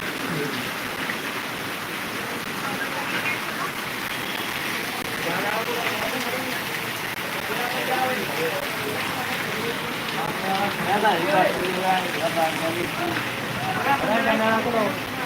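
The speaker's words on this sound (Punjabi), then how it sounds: "ਬਸ ਸਾਡੇ ਵਾਲੀ ਸਾਈਡ ਤਾਂ ਬੜਾ ਮੀਂਹ ਆ ਯਾਰ" Heavy rain falls in Bathinda during flood-like conditions, making a steady broadband hiss of drops on surfaces that builds slightly toward the end, with faint voices underneath.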